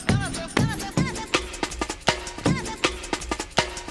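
A drum break, sped up and pitched higher: crisp, rapid kick and snare hits with ringing tonal accents in a busy, repeating breakbeat pattern, loud and alone.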